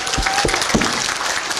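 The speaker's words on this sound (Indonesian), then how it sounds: "Tepuk tangan dulu dong." A seminar audience breaks into a short burst of dense, close applause, with a few distinct claps standing out at the start.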